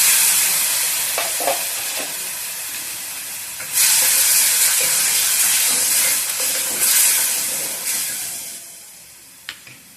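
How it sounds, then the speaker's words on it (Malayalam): Tamarind water poured into a hot pan of anchovy curry sets off a loud, steady sizzle and steamy hiss, swelling sharply partway through and then easing toward the end, with a few faint clinks and no talking. "ഇതിലേക്ക് നമ്മൾക്ക് ആ പുളിവെള്ളം ഒന്ന് ഒഴിക്കാം."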